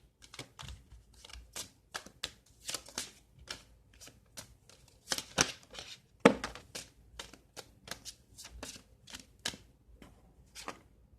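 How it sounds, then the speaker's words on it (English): Chakra cards being shuffled: a long run of quick, crisp riffling clicks and flutters close by, fairly quiet, with no voices. "And now we're going to pull from the chakra cards."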